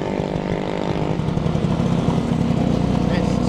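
A Kawasaki two-stroke motorcycle engine runs with a steady, buzzy, rattling drone. It stays loud and close throughout without a break.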